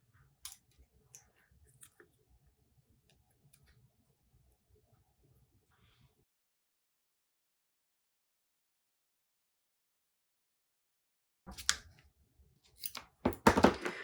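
Scissors snipping through card for a diorama, a few quiet crisp cuts near the end after a long hush, with faint handling rustles earlier.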